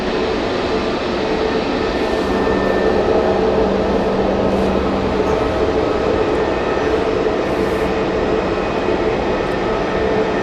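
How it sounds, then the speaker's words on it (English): A Eurowings airliner lands at Hamburg Airport, heard as a loud, steady roar of jet engines and rushing air that holds for about ten seconds with no talk over it. "Eurowings just landed."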